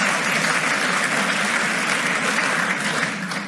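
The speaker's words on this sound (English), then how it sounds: "So round of applause, Sander," Audience applause at a talk, a dense, steady wash of many hands clapping, loud and sustained, tapering slightly at the end.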